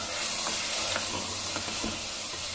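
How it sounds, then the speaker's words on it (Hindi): Turmeric powder is stirred into mutton frying in a pan for a curry, a close, steady sizzle broken by soft scraping strokes of a spoon, with no voices. "हल्दी को अच्छे से मिक्स कर देंगे।"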